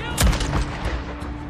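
Gunfire from the zombie game Days Gone: a loud close shot rings out, followed by a second weaker report and a fading echo, with no voices over it.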